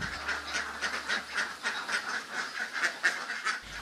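Turi ducks, also called Mataraman ducks, quacking repeatedly in a rapid, rhythmic series of nasal calls, fairly close and with no talking.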